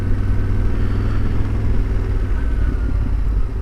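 A Yamaha Ténéré 700 motorcycle rides along a town high street in Fife, its engine a loud, steady low rumble with constant wind and road noise and no pauses.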